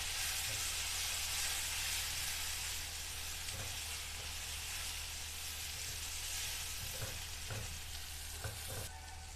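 Salt, turmeric and chili powder sizzle steadily as they are stirred in a hot pan for bhindi masala, a loud continuous frying hiss broken by occasional stirring scrapes, with no talking.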